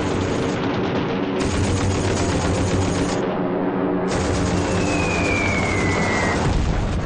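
Sustained machine-gun fire roars without a break through a Japanese attack on an American base, a dense, loud wall of rapid shots and rumbling blasts.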